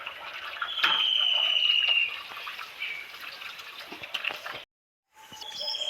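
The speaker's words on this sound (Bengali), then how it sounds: "এবার ভালো করে ধুয়ে নেব মাছ" Running water splashes and gushes steadily over cut bhetki fish being washed by hand, with small knocks and sloshes through the flow, a brief break in the sound, then the water resumes.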